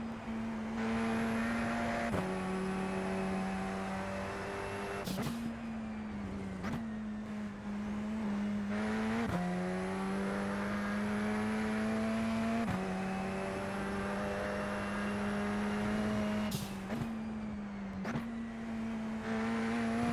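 A Radical SR10 race car lapping Road Atlanta, its engine droning loud and steady from onboard, with sharp gear-change breaks and pitch drops every few seconds as it brakes and accelerates through corners, no talking.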